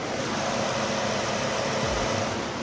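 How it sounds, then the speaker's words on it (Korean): Idling LPG-fuelled Hyundai Grandeur sedan engine recorded with the hood open, a steady, quiet low hum with faint mechanical whir, no voices. "영상으로 엔진 소음 한번 담아오도록 하겠습니다."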